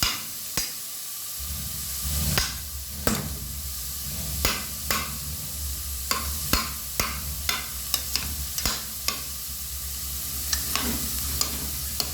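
Sliced onions sizzle and hiss steadily in hot oil in a pan for masala dosa filling, with repeated sharp scrapes and taps of a spatula stirring them up close throughout.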